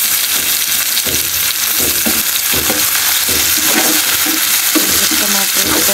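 Two large tomatoes fry in a pan for a simple chappan kadu recipe, giving a loud, continuous close-up sizzle with rhythmic stirring scrapes and no talking.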